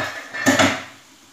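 A lid goes onto a cooking pot of bihon noodles on the stove with a single brief, close metallic clank and a quick rattle.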